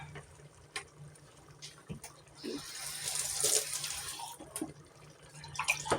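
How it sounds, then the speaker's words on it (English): Water is poured from a tap into a stew pot holding hamburger, potatoes and canned cream of mushroom soup, making a rushing splash that swells for a couple of seconds between scattered kitchen clatter. "And I'm adding a little bit of water."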